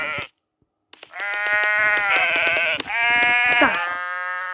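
Sheep bleating in the sandbox game WorldBox, several loud, close, drawn-out bleats overlapping one another after a brief silence.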